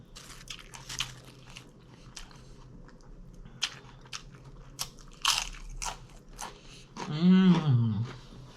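Taco salad bitten with a sharp, close crunch, followed by softer wet chewing and a few louder crunches; a voice hums appreciatively near the end.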